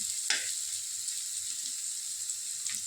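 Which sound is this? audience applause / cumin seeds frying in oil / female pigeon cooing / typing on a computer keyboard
cumin seeds frying in oil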